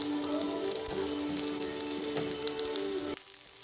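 Garlic sizzling steadily in a hot pan at the start of Filipino-style chaofan for breakfast, a dense continuous frying hiss with faint stirring clicks that cuts off abruptly near the end.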